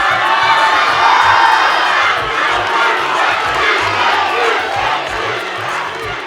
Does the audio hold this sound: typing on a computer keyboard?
no